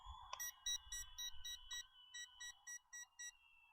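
An Ascend Aeronautics ASC 2680 drone gives off a run of short, evenly spaced electronic beeps, about a dozen in quick succession, fairly faint and close, with no talking over them.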